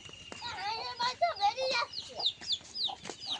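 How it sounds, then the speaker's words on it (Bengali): Baby chicks peep and cluck close by in a rapid, overlapping chorus of thin, high chirps that continues throughout. "এগুলো মুরগির বাচ্চা, ধরে ঢুকিয়ে দিতে হবে মুরগির বাচ্চাটা"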